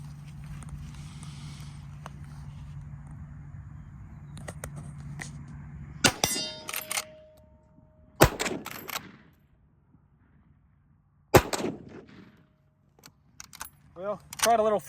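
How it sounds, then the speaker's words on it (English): A Marlin 336 lever-action rifle fires three sharp, loud shots spaced a few seconds apart, the last two quicker, each followed by brief rattling, over a low steady hum. "I'm gonna put 3 more rounds through here just to close out the video."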